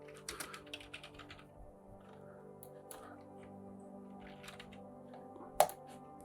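Light typing on a computer keyboard, with scattered soft close key clicks, a brief flurry near the start and one sharper tap near the end, over a quiet room with no talking.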